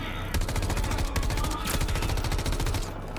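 Rapid bursts of automatic gunfire in a video game crackle continuously over a busy, dense background, steady and fairly loud throughout.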